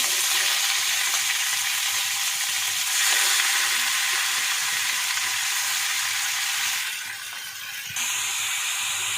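Chicken with curry leaves frying in a pan for a green chicken varuval, giving a steady, close, bright sizzle that runs unbroken with no talk and shifts slightly near the end.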